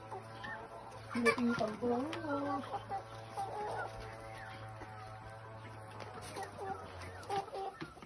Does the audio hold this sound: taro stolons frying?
no